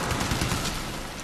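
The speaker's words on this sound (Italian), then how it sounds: "Tutto degli spari che mi fanno" Gunfire rattles in rapid bursts in the Medal of Honor Warfighter video game, loud and close, continuous for the whole stretch with no talk.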